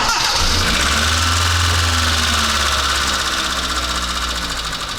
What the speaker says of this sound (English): So we're gonna start the car now and have a look.